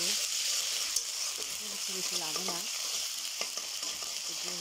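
Ginger hitting hot oil in a pan for noodles, a steady close sizzle with stirring scrapes, while someone talks over it.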